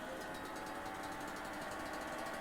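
The small ATSimulations Cri Cri aircraft's engine starts in the MSFS 2020 flight simulator and settles into a steady, buzzing, lawnmower-like drone with a fast regular pulse, moderately quiet and constant.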